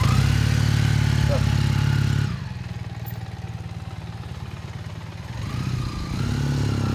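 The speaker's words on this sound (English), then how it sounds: "It has a real nice throaty exhaust note on it." A 1979 Honda CM400A 400cc four-stroke twin motorcycle idles nearby with a steady, throaty exhaust burble, dropping to a softer, quieter rumble midway before building back up.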